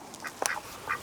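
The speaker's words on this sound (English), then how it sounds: "I love having my ducks in the garden this time of year." Garden ducks give a few quick quacks, three or four short nasal calls spread over about a second, close by and fairly soft against quiet surroundings.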